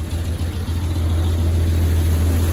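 A square body Chevy truck engine idles steadily at close range, a loud, continuous low rumble that holds even for the whole stretch with no revving.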